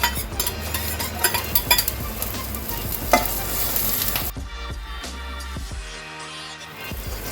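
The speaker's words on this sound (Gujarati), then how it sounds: "હવે આપણે એની અંદર 2 ચપટી જેટલી હિંગ નાખીશું. કડી પત્તા નાખીશું અને એક મરચું લીધું છે તીખું, એ નાખીશું અંદર." Asafoetida, curry leaves and a hot green chili drop into hot oil for a besan chutney, setting off a loud crackling sizzle with stirring, then settling into a quieter fry with light utensil clinks.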